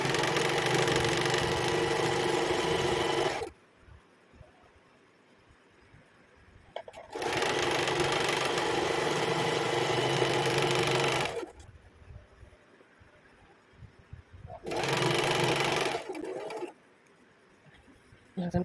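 Sewing machine stitching a kurti, running in three loud bursts of rapid, steady mechanical whirring separated by quieter pauses, close by.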